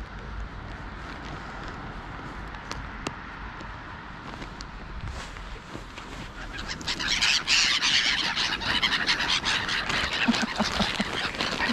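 A flock of gulls squawking and calling from a distance, growing louder and busier partway through, over steady outdoor background noise.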